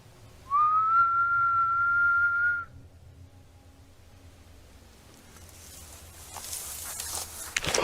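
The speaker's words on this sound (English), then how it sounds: "I'm gonna try whistling back" A single long, steady whistled note sounds close by in the woods for about two seconds, then fades into quiet outdoor rustling and faint movement.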